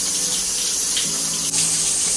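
Shower water runs steadily in a loud, close hiss that stays constant throughout, with no talking.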